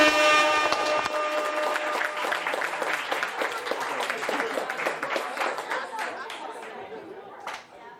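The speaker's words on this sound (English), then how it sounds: "Let's just start the night off with a huge round of applause for the beautiful bride and groom" Wedding guests at an evening reception clap for the bride and groom, lively mixed clapping and cheering that starts over a sustained horn-like tone and fades toward the end.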